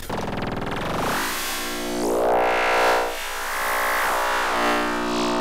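A Piston Honda MK3 synthesizer playing a saw wave produces a bright, buzzy tone with slow filter-like sweeps rising and falling, sustained and loud, no speech.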